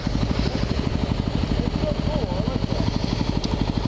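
A Suzuki 1000 motorcycle engine runs with a steady, rapid, throbbing pulse, close and loud, beneath a person talking.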